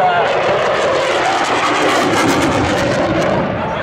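A loud, continuous jet engine roar, an Italian Air Force Eurofighter Typhoon sweeping through a tight 9G turn at 400 knots, with broad rushing noise that rises and falls slightly.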